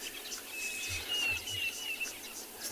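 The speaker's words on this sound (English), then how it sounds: "So many birds calling at the moment." Many wild birds call together at sunrise on safari, a dense layered chorus of chirps and a thin whistled note, moderately distant over a low outdoor rumble.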